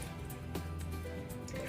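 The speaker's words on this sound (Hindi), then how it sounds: "अब मैं इसमें थोड़ा सा पानी ऐड करूँगी।" Water is poured into fried spices in a pan for a restaurant-style makhani matar masala curry, a short, close splashing and trickling over low sizzling, with no talk.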